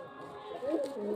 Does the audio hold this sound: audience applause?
no